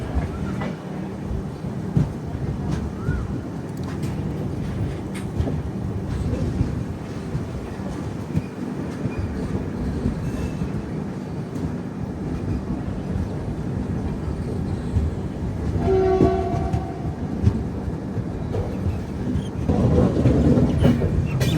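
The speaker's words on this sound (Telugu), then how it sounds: "ప్లాట్ఫామ్ నెంబర్ 2 నుంచి బయలుదేరింది బండి." The Garib Rath Express, on the Delhi to Chennai Central route, pulls out of platform 2 with a continuous heavy rumble and clatter of wagons that builds louder toward the end.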